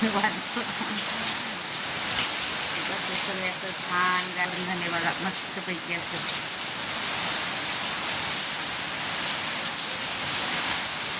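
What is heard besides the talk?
rain falling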